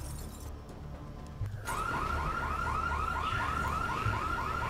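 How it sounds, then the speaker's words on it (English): An alarm goes off in the video game Dead Rising 3, a rapid repeating electronic warble that cuts in abruptly after a low ambient stretch and keeps cycling loudly and evenly. "Really? An alarm?"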